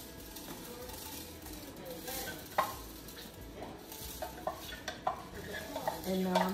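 Basmati rice, one and a half cups, goes into a one-pot chicken jambalaya and is stirred, giving a steady grainy scraping and sizzle with scattered clinks of a spoon against the pot, fairly close and without talk.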